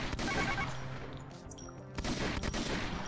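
Rapid bursts of gunfire from the video game Doom: Project Brutality, loud and continuous, with dense overlapping shots that swell again after a brief lull.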